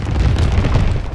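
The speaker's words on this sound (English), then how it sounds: "Enemy mortar fire incoming." An enemy mortar shell explodes in a Call of Duty battle, a loud close low boom that rumbles continuously for just over a second with no talk.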